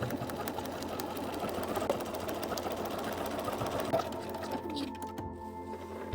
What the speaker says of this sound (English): We are going to start sewing from the top here all the way down to that dot